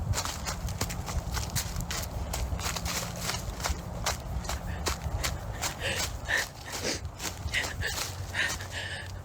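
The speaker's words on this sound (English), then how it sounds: "Footsteps can be heard approaching, causing Andrea to get scared and run back towards her house." Footsteps approach in a steady clip-clopping rhythm, close and fairly loud, continuing throughout with little else around them.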